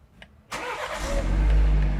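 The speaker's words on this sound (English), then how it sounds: "Start the car." A 2019-or-later BMW 330i G20 starts up: a faint click, then a sudden cranking catch as the engine fires and settles into a loud, steady idle with deep low rumble, close by.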